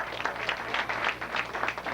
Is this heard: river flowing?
no